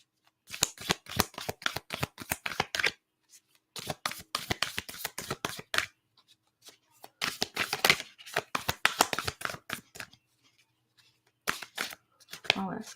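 A deck of cards being shuffled close to the mic in several quick bursts of rapid riffling clicks, separated by short silent pauses.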